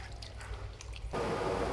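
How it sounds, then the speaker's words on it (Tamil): Sliced tapioca chips are rinsed in water to strip excess starch, with soft drips and squishy splashes at first, then a brief louder swish of water near the end. "இப்போ இதை நல்லா அலசி இதில் இருக்கிற அதிகப்படியான ஸ்டார்ச்சை நீக்கிறதுக்காக நம்ம தண்ணியில் நல்லா இதை வாஷ் பண்ணி எடுக்க போகிறோம்."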